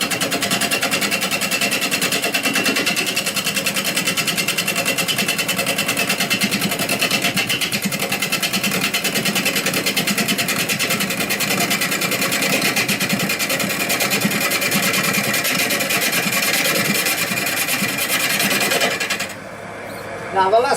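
A wood lathe spins a wood piece at 900 RPM, giving a loud, continuous motor whir with a rapid buzzy texture close by. It cuts off sharply near the end.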